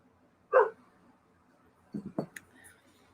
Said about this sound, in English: I have a puppy outside. So if you hear barking,